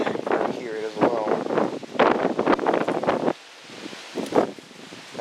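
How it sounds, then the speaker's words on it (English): Gusty wind buffets the microphone in low rumbling bursts, with a person talking over it throughout. "quite windy here as well"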